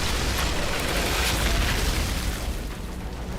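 Fire Witch Eruption skill explosions in the shooter game Outriders, a dense, continuous roar of booming blasts held loud throughout, easing off slightly near the end.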